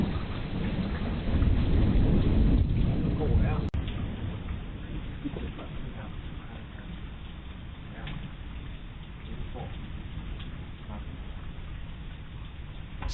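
Steady rain pours during a thunderstorm outside a house porch, a dense continuous wash loudest early with a brief sharp crack near four seconds, no voices.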